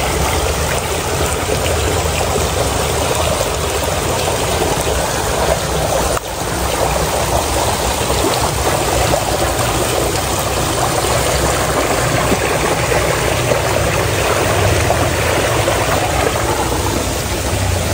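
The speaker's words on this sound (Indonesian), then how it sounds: "Loh, ada sungai lagi." A clear river stream flows steadily and close, a continuous rushing and trickling of water with no voices, holding even throughout.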